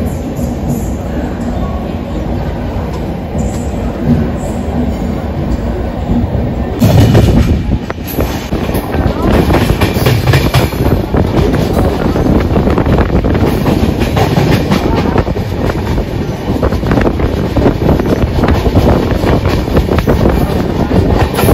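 A train runs through a railway station on a Kerala Express journey from Delhi to Tirupur in South India, with loud continuous rumbling and clattering wheels on track throughout, growing heavier partway through.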